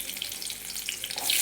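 Mustard seeds, urad dal and fenugreek sputter and crackle in hot oil for fish curry, a close, continuous hissing fry with small pops that grows a little louder toward the end.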